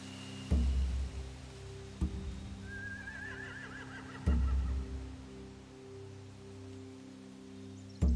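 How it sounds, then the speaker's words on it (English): A horse gives a wavering whinny midway, between several dull thumps and a steady low rumble in the background. "They have horses."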